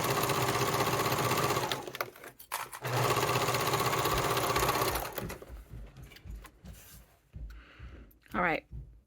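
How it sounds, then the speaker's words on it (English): A sewing machine stitches a seam in fabric, its rapid needle chatter running loud and steady for two stretches with a brief pause between, then stopping as handling noises and a voice follow. "I'm going to sew this"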